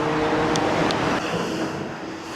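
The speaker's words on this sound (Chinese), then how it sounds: "摩托车的声音真的是尤其的大" Highway traffic with motorcycles, heard from a footbridge over the road without noise reduction: a loud, steady broadband roar of passing vehicles that eases slightly toward the end.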